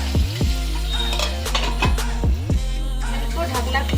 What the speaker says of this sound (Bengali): এরপর ঢাকনা খুলে আরেকবার আমি নাড়াচাড়া করে নিচ্ছি।